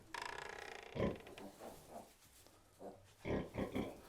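A farm pig grunts and snorts close by in short, irregular bursts with quiet pauses between them, alone without speech.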